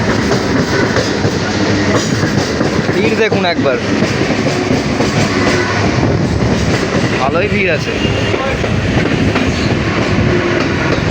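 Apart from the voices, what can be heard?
local commuter train running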